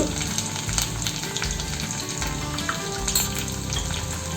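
Turmeric, chili powder and asafoetida sizzle steadily in hot oil, a close, continuous frying hiss under soft background music.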